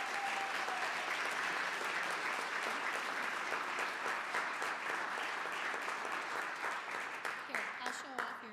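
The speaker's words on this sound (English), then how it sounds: "let's give her a huge round of applause" An audience at a city council meeting claps in sustained applause, dense and even at first, then thinning into scattered claps toward the end.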